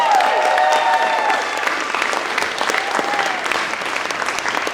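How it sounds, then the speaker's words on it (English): Applause from the audience at a city annual art awards ceremony, a full, steady wash of clapping throughout, with a brief voice heard at the start. "Give them a round of applause."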